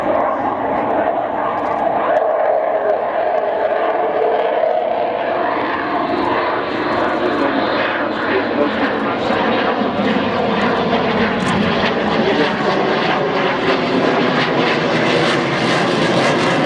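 A military fast jet flies a display at the RIAT airshow, its engine a loud, sustained roar that swells and shifts in pitch as it passes, with a commentator speaking beneath it.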